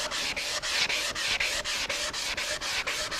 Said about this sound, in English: Sand it good with some 320. Then come back with some 600 and burnish it.